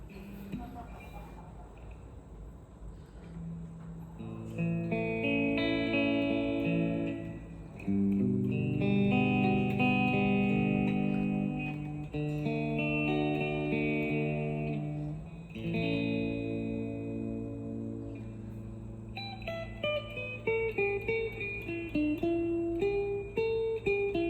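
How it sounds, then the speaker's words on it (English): Clean electric guitar with light reverb, strummed chords and picked notes ringing out, ending in a descending run of single notes. "Gonna start off with clean tone only with a little bit of reverb."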